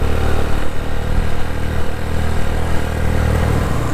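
Several motorcycles, some carrying three young riders each, pass on the zigzag Lowari mountain road, their engines droning loudly and steadily up close with rumbling clatter throughout.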